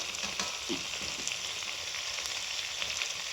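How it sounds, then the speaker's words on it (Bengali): Pre-fried potato and cauliflower fry in a cooked spice paste, producing a steady, fairly soft sizzle with light crackles and occasional stirring scrapes. "মশলাটা কষানো হয়ে গেছে এর মধ্যে আমি আলু ফুলকপিটা দিয়ে দেব"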